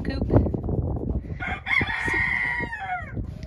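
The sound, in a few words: chickens and a rooster crowing in a coop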